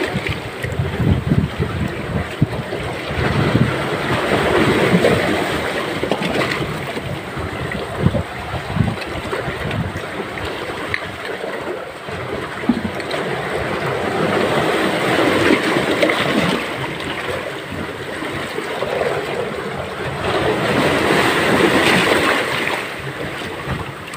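Powerful sea waves crash and surge close by, mixed with gusty wind buffeting the microphone, rising and falling in loud swells.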